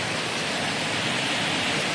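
Steady rain pours down at around five in the morning, a dense, even hiss with no pauses and no voices.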